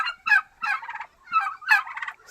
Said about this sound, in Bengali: turkey farm